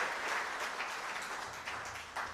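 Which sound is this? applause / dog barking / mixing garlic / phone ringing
applause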